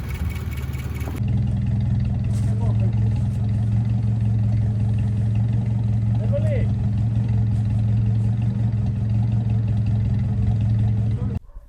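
A GAZ-24 Volga's engine runs at a steady idle, a close, constant low drone that holds unchanged for about eleven seconds before cutting off.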